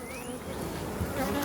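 Honeybees buzz steadily around an open hive during a summer split, a dense close swarm drone with individual insects passing near and away, no voices.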